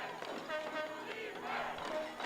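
Football crowd at a junior bantam provincial game roaring steadily for the Saanich Wolverines against White Rock, a dense, sustained cheer with horn-like tones rising through it.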